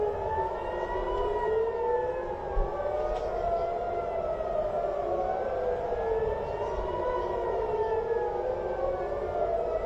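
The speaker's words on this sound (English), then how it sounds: "do they like send out warnings aside from the siren going off?" A civil defense siren wails continuously, its loud tone sweeping up and down in slow repeating cycles with no voices over it.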